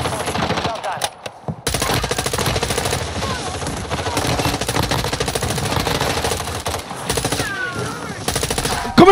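An M4 rifle fires in Warzone 2 in rapid, loud automatic bursts that run almost continuously, with a brief lull early on and game effects around them.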